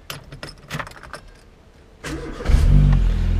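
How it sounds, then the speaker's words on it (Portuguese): Keys jangle a few times before a Peugeot 206 with water in its air filter cranks and starts, its engine then settling into a loud, steady idle close by. "funciona o carro"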